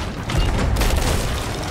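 A ship's cannon fires in the pirate game Sea of Thieves, a loud, close boom with a dense rumbling blast that fills the short moment with no talk over it.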